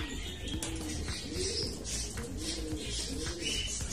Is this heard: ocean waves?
no